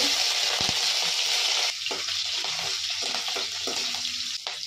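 Cumin seeds and chopped green chili hit hot oil with mustard seeds in a tempering, giving a loud steady sizzle that drops to a softer, crackling fry with small pops partway through.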